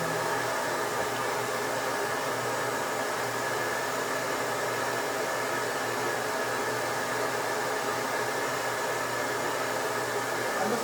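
A hair dryer blows steadily on dyed polyester lace, a continuous loud whooshing roar with a motor hum that holds constant from start to finish, close up and with no voices.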